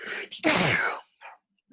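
A single sharp, close sneeze bursts out after a quick intake of breath, followed by a brief pause and soft sounds.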